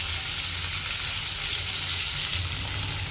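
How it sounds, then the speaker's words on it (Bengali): Chopped large onion dropped into hot oil with fragrant tempering spices, giving a loud, dense, steady sizzle close up with no pauses. "এর মধ্যে দিয়ে দেবে টুকরো করে কেটে রাখা একটা বড় সাইজের পেঁয়াজ"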